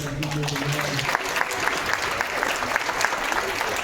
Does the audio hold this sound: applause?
yes